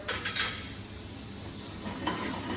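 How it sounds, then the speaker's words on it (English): Diced butter sizzles in a preheated pan while cooking sole meunière with mushrooms, a loud, continuous hiss with a few brief spatters and crackles near the start and end. "We add our diced butter"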